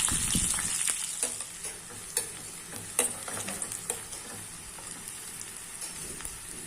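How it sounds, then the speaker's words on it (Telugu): Crushed garlic cloves, mustard seeds, cumin and dried red chilies fry in hot oil for a gongura prawn pickle, giving a steady close sizzle broken by occasional scraping clicks from stirring. "ఆయిల్ హీట్ అయిందండి. కచ్చపచ్చగా దంచిన వెల్లుల్లి రెబ్బలు ఒక 10 వేసానండి."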